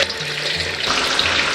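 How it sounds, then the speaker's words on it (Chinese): Tofu deep frying in oil over medium-low heat, a close, steady sizzle and crackle with no voices. "中小火慢炸。"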